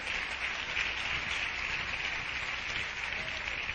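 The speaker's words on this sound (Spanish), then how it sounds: "Denle un aplauso al Señor." Church audience applauding, a dense steady wash of clapping from many hands, sustained and even throughout at moderate distance, with no talk over it.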